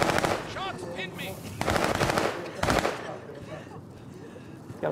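Rapid automatic gunfire from Call of Duty Warzone, loud bursts of machine-gun fire with overlapping shots, dense in the first three seconds and then thinning out, with voices talking over the shooting.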